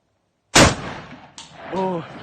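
A Barrett rifle fires a single loud, sharp shot at an outdoor firing range. The blast rings and decays for over a second, and a person speaks briefly afterward.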